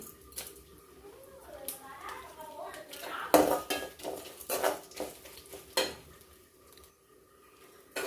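Grated coconut and shallots roast in a pan on a home stove, with repeated scraping and clinking of a metal spoon against the pan and a faint sizzle; someone talks over the stirring.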